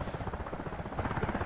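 A rescue helicopter flying in a flight simulator game produces a steady, rhythmic rotor thump over a continuous engine drone, moderately quiet and unbroken, with no talking.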